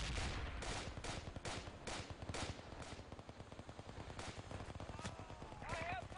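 Repeated gunfire in the military shooter Project Reality, sharp bursts and rapid shots cracking in quick succession, some close and some farther off, with a voice briefly present near the end.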